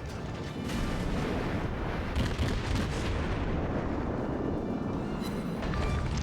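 Heavy main-gun fire from the cruiser Aoba in a World of Warships naval battle, a continuous loud rumble of booming shots and blasts with sharp cracks near the two-to-three-second mark, close and dense throughout, with no talk over it.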